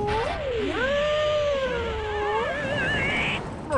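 A cat yowling in long, wavering, drawn-out meows that rise and bend in pitch, loud and close, continuing for several seconds without speech.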